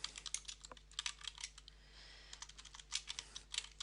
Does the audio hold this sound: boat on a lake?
no